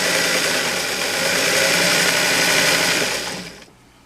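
A sewing machine runs steadily while stitching stretched elastic onto a fabric waistband, a loud, continuous whirring motor hum close by that winds down and stops near the end.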